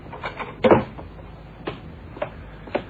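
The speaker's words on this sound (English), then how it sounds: "Close the door, Johnny." An old-time radio drama door shuts with a firm thump, followed by a few lighter knocks and clicks in a quiet room; no one speaks during it.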